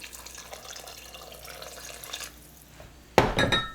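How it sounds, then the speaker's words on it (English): Four cups of water pour into a pot in the kitchen with a sudden splashing rush near the end, after quieter clinks and faint kitchen handling sounds. "Okay, I'm adding 4 cups of water."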